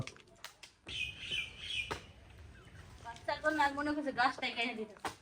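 A common myna calls near its nest in a neem tree, with a few short chirping bursts heard partly under nearby conversation, moderately close.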